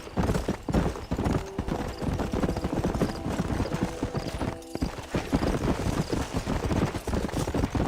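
Horse hooves clip-clop at a steady trotting rhythm on a dirt road near the western town of Blackwater in Red Dead Redemption. The beat is loud, close and continuous, with a faint background bed beneath it.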